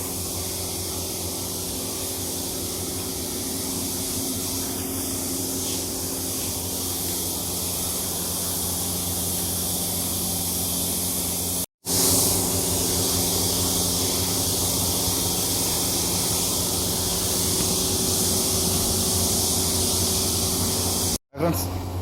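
A spray gun applying matte black paint to a Maruti Suzuki Baleno car door in a workshop, a steady loud hiss running almost continuously with two brief cutoffs, someone talking over it at times.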